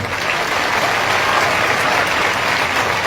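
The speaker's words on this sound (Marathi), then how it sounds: "पुणे जिल्ह्यातल्या सगळ्या मराठा समाजाचं टाळ्या वाजवून कौतुक करू" Sustained applause from a large crowd of Maratha community supporters at a statewide meeting in Antarwali, dense and steady clapping throughout at a loud, even level with no speech over it.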